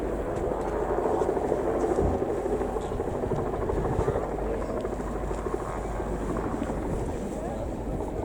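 Chinook helicopter flying at the RAF Cosford Airshow, a steady, loud rotor and engine roar with wind buffeting, while a commentator talks over it throughout.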